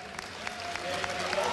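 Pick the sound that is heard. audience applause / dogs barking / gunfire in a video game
audience applause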